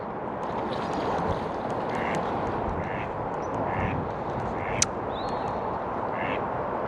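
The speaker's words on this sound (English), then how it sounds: "these birds' noise is so soothing, so calm, peaceful." Ducks quacking on an autumn nature walk, a series of repeated quacks at a moderate distance, all over a steady rush of wind and water noise, with one sharp click near the end.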